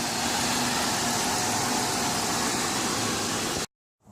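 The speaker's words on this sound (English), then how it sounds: "so we're gonna just drive it now" A Buick 3.8 car on a test drive after a water pump and coolant elbow replacement, heard as a steady broadband road and engine roar from inside the cabin that cuts off abruptly near the end.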